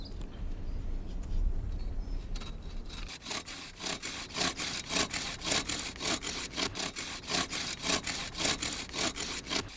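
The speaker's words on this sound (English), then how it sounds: "Ludwig Lauscher has begun sawing willow trunks into individual segments to create the rake's teeth" After a few seconds of low rumbling, a hand saw cuts willow trunks into segments for rake teeth in steady back-and-forth strokes, close and rhythmic, with no voices.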